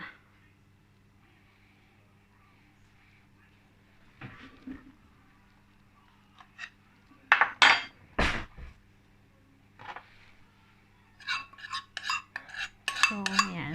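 A spoon scraping low-carb chia seed bread mixture out of a mixing bowl, a few scattered scrapes and clinks separated by quiet, growing busier toward the end, close and fairly soft.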